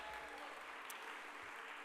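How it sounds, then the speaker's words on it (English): Applause at a conservative political summit session, a brief, faint wash of steady clapping from a large audience lasting under two seconds. "Give yourselves a round of applause."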